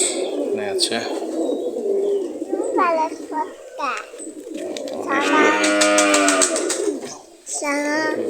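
Many pigeons kept in netted coops on a farm, with soft cooing and bird calls heard near and intermittently under someone talking throughout.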